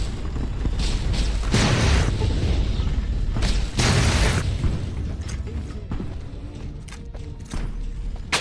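Father Elijah's laser weapon firing in Fallout New Vegas, heavy booming discharges in bursts, loud and close with rumbling tails, followed by quieter clicks.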